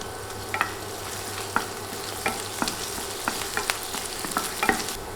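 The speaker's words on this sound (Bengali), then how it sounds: "দিচ্ছি রসুন কুচি আর দিচ্ছি দুইটা শুকনা মরিচ এবার নেড়ে যেয়ে সব কিছু ভেজে নিব" Chopped garlic and two dried red chillies sizzle in hot oil for a tempering, a constant crackling fry punctuated by regular spatula scrapes and taps against the pan.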